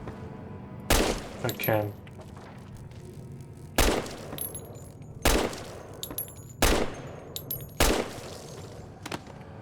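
Gunshots ring out in Fallout: New Vegas, modded, five sharp loud blasts spaced about two seconds apart, each with a short ringing tail, while someone speaks briefly between them.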